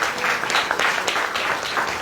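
A church congregation claps together in thanks to the Lord, a dense, even burst of applause filling the room for a couple of seconds.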